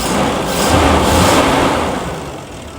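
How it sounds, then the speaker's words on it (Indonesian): A Toyota FJ40 Hardtop from around 1970 to 1980 idles nearby, a steady low engine rumble with smooth, even pulses, loud and without talk. "Suara mesinnya halus, istimewa."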